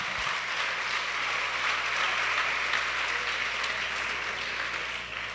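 Loud, dense applause from a church congregation, steady and sustained throughout with no voices rising above it.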